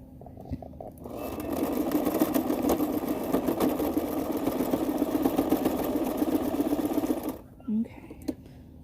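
Sewing machine stitching a fabric mask, a fast steady mechanical whir running for several seconds before stopping, with a brief click after it ends.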